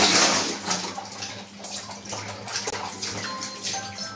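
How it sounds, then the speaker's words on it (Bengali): A child splashes and plays in water in a ball pool filled to make a small indoor pond, with continuous close sloshing and swishing. "তুমি তো এদিকে জলের মধ্যে খেলা করতেছো"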